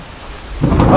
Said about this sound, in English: his thunder's so loud, it's ridiculous